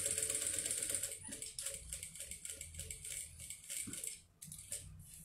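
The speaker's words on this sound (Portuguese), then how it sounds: "Vou passar uma costura aqui na beiradinha de meio pé de máquina" A sewing machine stitches a seam along the edge of a bag lining, a rapid rhythmic mechanical clatter in short runs with brief pauses, quiet and close.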